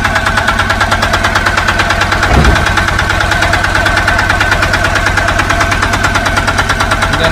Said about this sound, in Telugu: engine sound okay